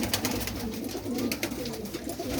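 Domestic pigeons coo in low, throaty murmurs, several birds close by with a continuous soft burbling and some rustle, no speech.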